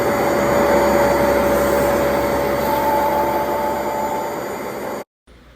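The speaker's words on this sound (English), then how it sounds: "The power of the bristles is super impressive, as is the suction power" A Bissell Revolution Pet Pro Plus carpet cleaner runs with a loud, steady motor whine and suction roar, close by and alone, then cuts off abruptly near the end.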